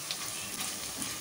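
Cumin and mustard seeds fry in hot oil for a tempering, with garlic nearby, giving a steady, close, moderately loud sizzle with no pauses across a short stretch.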